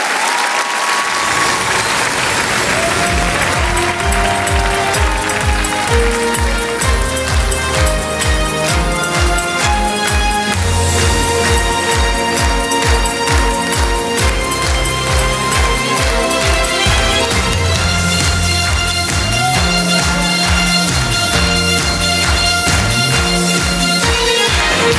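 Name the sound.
TV studio audience applause for Priscilla troupe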